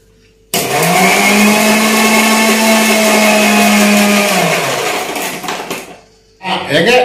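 Kitchen blender grinding two peppercorns with other ingredients for a juice, a loud whirring motor that runs steadily for about five seconds, then winds down, stops briefly, and starts again in a short burst.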